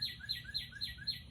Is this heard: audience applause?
no